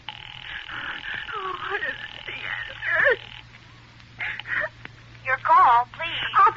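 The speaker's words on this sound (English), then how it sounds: "You may dial that number direct." An old-time radio suspense drama plays a telephone dialing effect, a steady warbling tone for a few seconds before voices take over.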